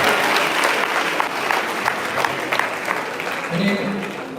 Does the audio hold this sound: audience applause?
yes